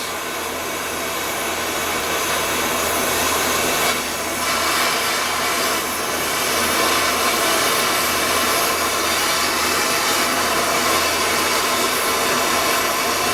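A torch flame heats a steel ballnut in a workshop, a continuous loud roaring hiss that holds steady for the whole stretch with slight swells, no speech.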